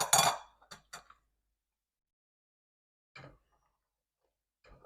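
Rinsed cranberries tumble into a pot for a three-ingredient cranberry sauce, giving a loud clattering burst of small hard berries, then a few sparse clinks and quiet knocks as they settle.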